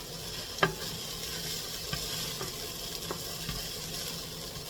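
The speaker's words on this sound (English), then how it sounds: "I'm going to put a little bit of garlic in it, and then I'm going to put my ground turkey in it." Ground turkey and garlic frying in a pan with a steady soft sizzle, broken by a few light clicks and scrapes of stirring, alone with no talking.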